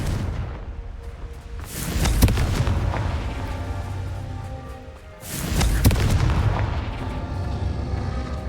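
Two booming Confringo blasts from the spell in Hogwarts Legacy, each a loud fiery explosion that rumbles and fades over a few seconds, separated by a quieter stretch.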